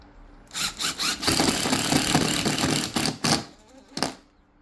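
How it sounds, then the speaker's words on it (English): A powered screwdriver drives colour-matched screws through the rear holes of an armor plate, giving short whirring bursts, then a sustained buzzing run and a few final pulses, close and loud with no talking. "we're going to take these screws, which are color match, they look great, and we're going to stick them right through these rear holes"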